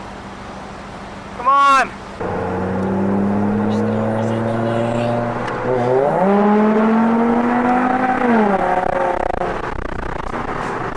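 Two tuned rally-style cars, a Mitsubishi Evo and a Subaru STI, rev and race with rising harmonic engine notes under a sustained drone, a loud passing whine early on, and a brief spoken shout.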